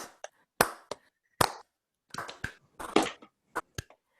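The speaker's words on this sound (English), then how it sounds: "we're going to start with the unity clap" Filipino unity clap performed by online participants over a video call: scattered, uneven single claps from different people arriving out of sync, some close and sharp, others faint, building to a denser cluster before trailing off.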